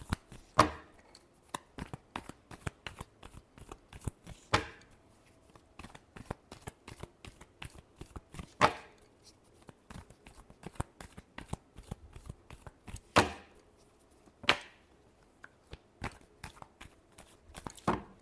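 A tarot deck is shuffled in quick, soft riffling bursts, many small crisp clicks with a few sharper snaps, fairly faint and close, with no talking.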